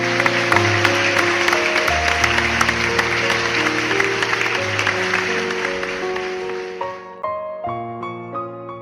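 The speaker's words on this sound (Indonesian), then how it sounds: "Beri tepuk tangan yang meriah." A crowd breaks into hearty applause over a bright, loud music bed. The clapping runs for about seven seconds before cutting off, leaving only the tune.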